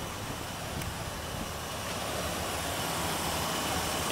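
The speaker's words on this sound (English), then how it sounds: "So the idle isn't as nice as I'd like it to be" A Mazda RX7 rotary engine idles roughly, heard as a steady, faint, hissy mechanical drone with a low uneven rumble underneath, running unchanged and without voices.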